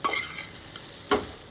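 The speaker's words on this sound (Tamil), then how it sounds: "இந்த சில்லி ஃப்ளேக்ஸு எல்லாமே நல்லா சேர்ற மாதிரி நல்லா கிண்டிக்கிடுங்க" Plantain pieces with salt and chilli flakes stirred in a pan, two brief scraping strokes of a spoon against the pan over a soft background sizzle.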